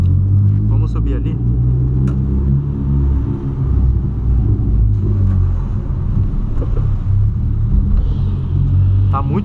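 A Volkswagen Polo with a sport exhaust rumbles loudly and close by, its deep droning roar swelling slightly in places and staying continuous throughout.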